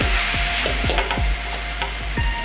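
Ground biryani masala being stirred in a pot for chicken biryani, with a steady sizzle and regular scraping strokes of the spoon, about five or six rhythmic turns, loud and close, no talk.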